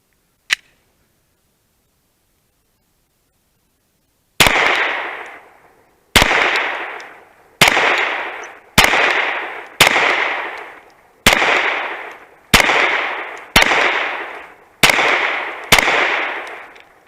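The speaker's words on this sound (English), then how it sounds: "So we'll shoot the 10-round magazine at paper" Ten loud pistol shots from a Glock with a smoothed aftermarket trigger, fired at a paper target, a sharp crack with fading echo coming roughly every second and a half after a single click.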